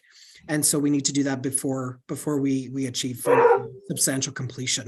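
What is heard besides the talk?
dogs barking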